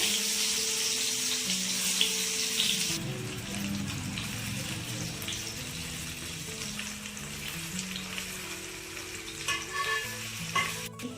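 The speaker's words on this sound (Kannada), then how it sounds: "ಬದನೆಕಾಯಿ ನೀಟ್ ನೀಟಾಗಿ ನೀರು ಫ್ರೈ ಆಗಬೇಕು" Oil sizzles and crackles steadily as stuffed eggplant fries in a pan, a continuous close hiss with occasional stirring and clinks.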